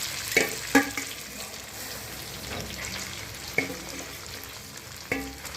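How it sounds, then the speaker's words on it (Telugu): Marinated chicken fries in hot oil in a pan, giving a steady sizzle with several sharp stirring clacks and spatters spaced across the clip. "ఇప్పుడు మనం మ్యారినేట్ చేసి పెట్టుకున్న చికెన్ వేసి బాగా ఫ్రై చేసుకుందాం."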